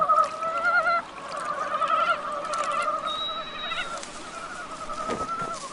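A chorus of frog mating calls fills the night air in a Russian forest, overlapping honking and trilling notes sustained throughout, with a higher chirp briefly joining in.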